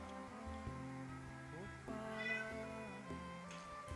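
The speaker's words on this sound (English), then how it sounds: "it's the black cat who's outside and she wants to be in" A black cat outdoors meowing to be let in, faint and distant, with a couple of drawn-out cries over a steady tonal background hum.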